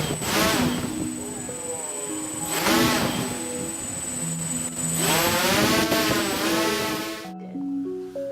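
Motors of a small flying robot spin up during a lift test, giving a close, buzzing whine whose pitch rises and falls in surges over about eight seconds before cutting off, with people talking around it.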